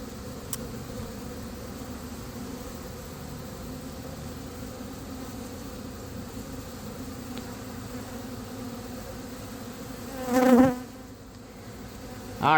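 Honeybees buzz continuously during a hive removal in Winter Haven, Florida, a dense steady drone of many insects close by, with a brief louder pass of a bee near the end.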